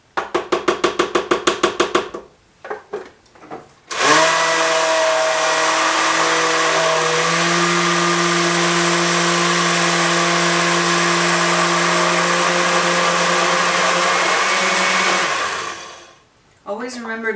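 A blender pureeing garbanzo beans for hummus: a few short pulses, then a long, loud, steady motor whine lasting over ten seconds before winding down, with brief clatter around it.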